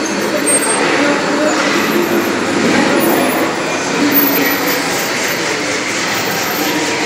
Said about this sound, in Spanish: Toda la máquina está trabajando.